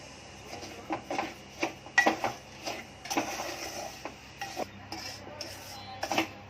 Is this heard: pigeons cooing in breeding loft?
no